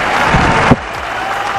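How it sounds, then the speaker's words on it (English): A dense roar of applause and cheering from a large stadium crowd at an India versus Sri Lanka one-day international cricket match, loud and sustained throughout, with a commentator's voice briefly audible underneath. "The crowd."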